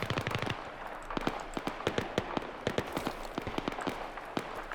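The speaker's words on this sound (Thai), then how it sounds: "มีคนยิงมา" Gunfire rattles through a Battlefield 3 match: rapid bursts of automatic shots, moderately loud and crisp, repeat in quick clusters across the whole stretch, with brief gaps between volleys.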